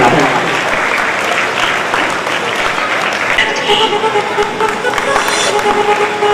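Audience at an RK Dance and Fitness Studio anniversary celebration in the Rajiv Gandhi Auditorium applauding, a dense, loud, sustained clapping from a large crowd with a host's voice faintly over it.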